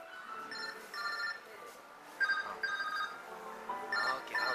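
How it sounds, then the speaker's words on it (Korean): A telephone rings inside a housewares store in a shopping street, repeated electronic ring bursts sounding at a moderate distance over a busy background of store ambience. "또 전화 오네."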